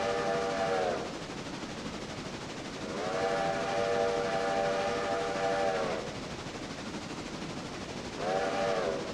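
Railroader train whistle sounding in long tonal blasts, a short one, then a longer three-second call, then another beginning, over a steady rumbling rail-car and engine bed.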